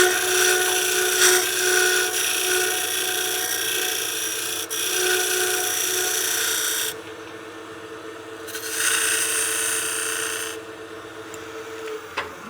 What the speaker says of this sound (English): we'll just use a small peeling cut here.